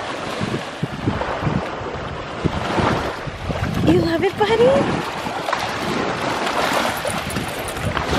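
Ocean waves wash and surge along a windy shoreline, with gusts buffeting the microphone and a person speaking briefly over the steady roar.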